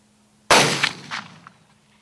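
One sharp, loud shot from a .50 caliber inline muzzle-loading rifle built by Craig Klintworth, fired at an impala on a hunt, cracking out of near silence and then rolling away in a few fading echoes.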